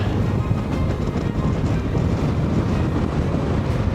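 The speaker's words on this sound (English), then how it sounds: "that wind is just ferocious today" Ferocious wind on a Patagonian road loop near San Rafael, roaring and buffeting the microphone as a loud, continuous low rumble with no talk.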